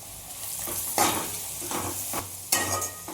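Sliced onions with turmeric cook in a pan for Telangana-style mutton head curry, giving a steady soft sizzle broken by a few louder scraping stirs near the start, middle and end, with nobody talking.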